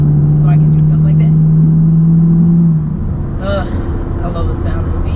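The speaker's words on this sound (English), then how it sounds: "I love the sound of a V8." Camaro SS V8 engine rumbling loudly nearby with a steady rev that drops off partway through, while someone talks over it.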